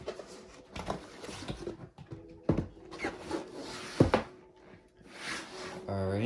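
Someone opens the cardboard box of a Redcat Monte Carlo lowrider RC car, making soft rubbing, scraping and rustling sounds with a few sharper knocks and taps. The sounds are quiet and close.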